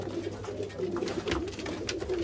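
Pigeons coo steadily in a low, continuous murmur at a pigeon setup, with a few brighter calls standing out, close and moderately loud, with no talking.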